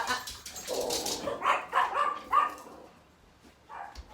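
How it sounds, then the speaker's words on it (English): Several dogs bark in short, excited bursts, one after another, fairly close, with a few yips and softer whimpers between them. "I hope the dogs don't go crazy barking."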